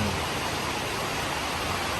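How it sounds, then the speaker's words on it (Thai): Steady evening rain falls without wind, a dense, even hiss that continues unbroken and fairly soft throughout. "วันนี้พาทุกท่านมาชมบรรยากาศฝนตกตอนเย็น"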